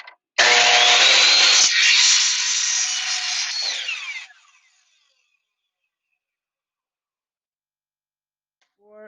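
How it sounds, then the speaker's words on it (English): A miter saw cutting through wood spins up with a loud whine and bites through the piece for about four seconds, then winds down into silence. "If I want to make a miter cut, it's the same operation."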